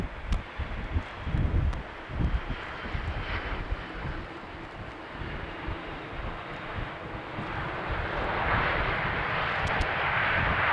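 An airliner comes in to land on runway 27 at Amsterdam Schiphol in windy weather, its broadband engine roar swelling steadily toward the end, mixed with gusty wind buffeting the microphone.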